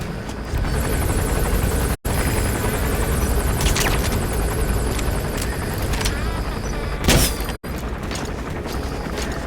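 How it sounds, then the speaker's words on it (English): Enemy gunship helicopter in the video game Metal Gear Solid V: The Phantom Pain, a loud, steady rotor roar that fills the whole stretch, broken by two brief dropouts and a short surge near the end. "That's an enemy gunship."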